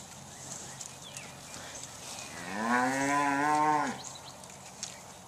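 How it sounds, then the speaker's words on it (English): Black Angus cattle low a loud, drawn-out moo as they approach at a farm, one long harmonic call in the middle of the clip over faint outdoor background noise. "So, see, we got more cows coming."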